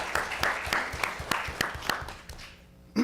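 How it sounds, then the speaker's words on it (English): A small school board meeting audience gives a round of applause: roughly a dozen distinct, fairly sparse claps in an uneven rhythm, fading out after about two and a half seconds. "just give that a round of applause"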